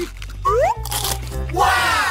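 Crunchy food is bitten and chewed during a many-layered food challenge, with crisp crunches under lively voices and sweeping tonal sounds.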